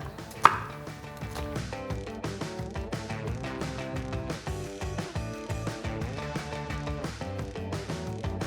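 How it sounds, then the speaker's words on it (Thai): A knife coarsely chops an onion on a cutting board rapidly and evenly, a brisk run of close, crisp strikes with no talking. "เราต้องมาหั่นหยาบช่วยเขาด้วยหอมใหญ่เราใช้หนึ่งหัวนะฮะ"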